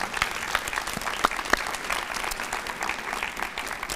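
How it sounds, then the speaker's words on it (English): Audience applause at a senior volunteer hall of fame event, a steady wash of many hands clapping from a large crowd at fairly even loudness, with a few sharper individual claps standing out. "That deserves a clap for all of you."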